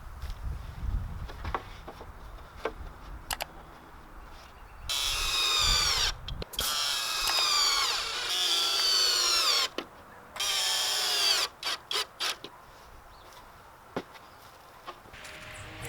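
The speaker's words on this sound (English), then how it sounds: "And then screw them in with some deck screws." Power drill driving deck screws into wood for a raised garden bed, with long loud whining bursts of the motor separated by short pauses, then a series of brief trigger pulls, amid light handling knocks.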